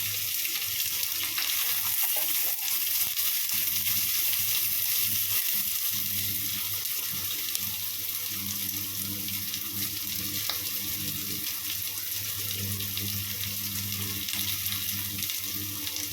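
Chopped shallots for crab masala fry in a pan with a continuous close sizzle that stays dense and even throughout, with no voices and light stirring noises now and then.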